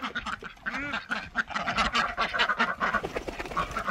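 Several ducks quack in a busy, overlapping chorus, loud and close, with no talking.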